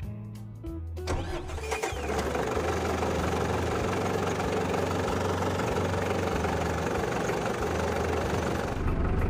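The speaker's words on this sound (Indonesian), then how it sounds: "Setelah lampu untuk glow-nya mati, lalu kita boleh starter mobilnya." A Mitsubishi Strada L turbo diesel pickup cranks over briefly and fires up, then settles into a steady, loud, close diesel idle with a low knocking rumble that continues to the end.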